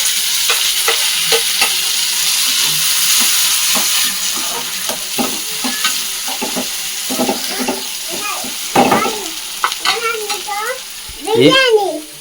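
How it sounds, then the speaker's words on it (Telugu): Onion, green chilli and tomatoes sizzle and fry in a pan for home-made fried rice, a steady close hiss with scraping stirs, while voices talk over the later part. "ఉల్లిపాయ పచ్చిమిర్చి టమాటాలు వేసేస్తాను"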